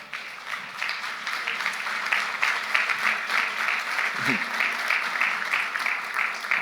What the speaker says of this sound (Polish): I poprosimy o brawa dla pana profesora.